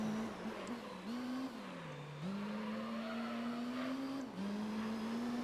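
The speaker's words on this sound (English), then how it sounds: "The 700 horsepower monster of a race car." Vertigo race car, a Belgian 700-horsepower machine in the Gran Turismo 3 video game, revs loudly, drops low under braking with faint tire squeal, then climbs steadily through a gear change and keeps droning, with no voices.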